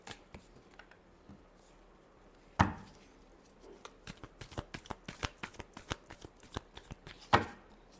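Tarot cards are shuffled by hand in a rapid run of crisp riffling flutters and soft slaps, with two louder snaps near the start and end, close and alone without talk.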